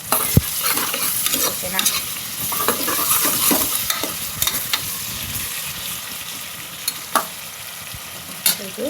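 Masala for egg biryani fries and sizzles in a pan while a spoon stirs and scrapes it, with sharp clinks and a continuous crackle. A brief spoken word is heard.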